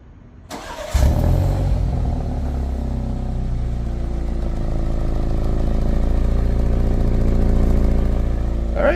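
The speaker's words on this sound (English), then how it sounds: "let's try a little remote engine start, cold start" 2023 BMW X4 xDrive30i performs a remote cold start: a click and a quiet lead-in, then the engine catches with a loud burst and settles into a steady, rumbling idle that holds close and strong for several seconds.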